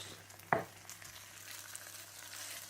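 Thai curry paste drops into a hot pan with a soft thud, followed by a faint, steady sizzle as it fries.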